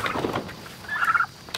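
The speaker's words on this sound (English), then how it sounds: "Now these turkeys are the ones, we had 15 of them and we lost most of them, and now we have 5." Turkeys in a coop let out a short, warbling gobble partway through, close by over a low background rustle.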